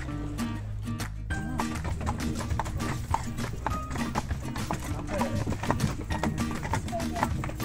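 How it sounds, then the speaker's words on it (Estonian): Horse hooves clip-clop steadily as a horse-drawn carriage travels a road on a lakeside trip in Central Europe, with close, even beats and people talking over them. "Üleval teeme järve ringi ja siis sõidame hobuvankriga jälle alla tagasi."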